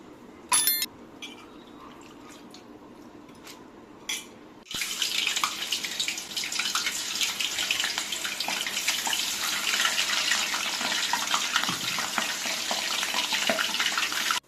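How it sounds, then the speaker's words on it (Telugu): Thin-sliced, salted potato slices for homemade chips dropped into hot oil, a sudden loud, steady hiss and crackle of frying that fills the kitchen after a brief quiet start. "ఇప్పుడు నూనెలో ఫ్రై చేసుకుందాం."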